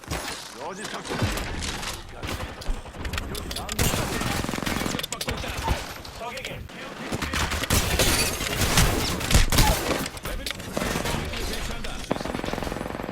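Gunfire in the video game Apex Legends: rapid bursts of automatic weapon fire with impacts and thuds, dense and loud, with a voice talking over the action.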